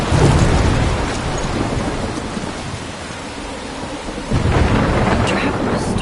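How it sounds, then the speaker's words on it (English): A thunderstorm in Life is Strange rages with dense, loud rain and deep rolling thunder, easing slightly in the middle before surging again with a heavy rumble. "I'm trapped in a storm?"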